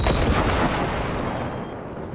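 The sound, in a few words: blowing up a turret with gunfire in Cyberpunk 2077 video game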